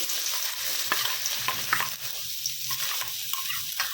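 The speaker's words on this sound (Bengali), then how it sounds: "এবার ওর উপরে পেঁয়াজ কুচিটা দিয়ে দিচ্ছি।" Finely chopped onion hitting hot oil tempered with cumin seeds, hissing and sizzling steadily while a spoon stirs with intermittent scraping clicks, up close in a home kitchen.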